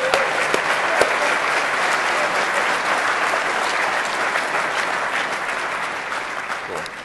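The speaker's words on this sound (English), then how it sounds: "Clap. Clap." A large conference crowd at DEFCON 19 breaks into loud, dense applause, a steady roar of many hands clapping that stays strong and gradually eases toward the end.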